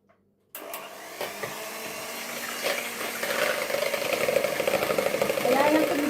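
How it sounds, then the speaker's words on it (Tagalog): An electric mixer runs steadily, starting abruptly after a brief silence and growing louder and busier as it works through a homemade apple mixture, its whirring motor close and continuous. "kunin natin yung mixture machine"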